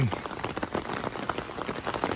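Rain falls in a wetland sanctuary on the Appalachian Trail, drops pattering steadily and closely on a nearby surface in a dense, irregular patter with no talking.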